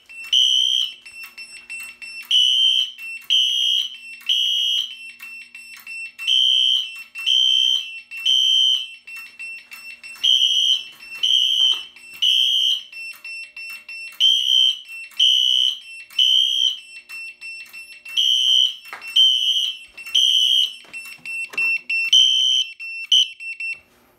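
A fire alarm system under test sounds in repeating bursts of loud, steady electronic tones, each group of pulses separated by brief pauses over about twenty-four seconds, with faint clicks in between and no talking.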